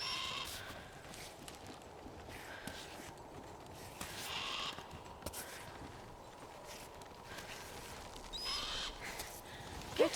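Several cawing calls from a crow in the video game Cairn repeat at intervals over a steady outdoor mountain ambience with light footstep-like rustling, the calls moderately loud and somewhat distant.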